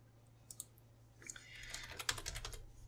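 Typing on a computer keyboard, a few scattered keystrokes at first and then a quicker, denser burst of clicks near the end, close and fairly quiet over a low steady hum.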